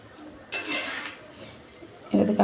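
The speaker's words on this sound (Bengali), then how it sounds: "এটাকে এখন আমি নাড়ছি।" A utensil stirs a coconut and sugar mixture in a pan, producing a brief scrape and a few close metallic clinks between short pauses, moderately loud, with no talking.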